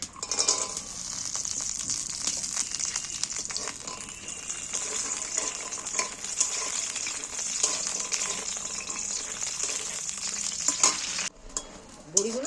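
Lentil dumplings (bori) fry in a generous amount of oil in a pan, a steady, dense sizzle that holds loud and close for most of the stretch, broken by occasional stirring scrapes before dropping off near the end.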